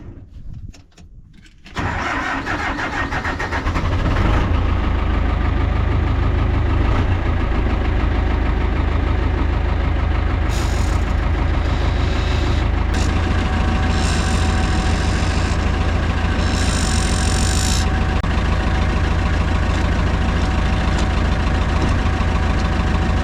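An old Massey Ferguson tractor engine cranks briefly, catches and then settles into a loud, steady diesel idle close by, running continuously with small fluctuations in tone.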